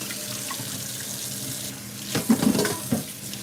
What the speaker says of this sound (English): I really do like to wash dishes as I go